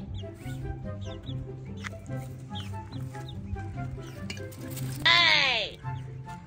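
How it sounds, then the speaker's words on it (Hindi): Newly bought chicks and chickens clucking and peeping close by while grain is scattered for them, under steady talk from a man, with a louder squawk near the end. "आज ये 2 नए चूजे लेकर आया हूँ।"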